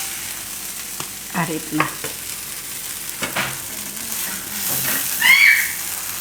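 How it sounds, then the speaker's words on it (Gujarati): Pav buns toasting in a little oil on a pan with paneer bhaji, giving soft, uneven sizzling and scraping stir sounds, with a brief spoken phrase partway through. "થોડુંક તેલ નાખતું જવાનું, મસ્ત રીતે શેકી લેવાનું"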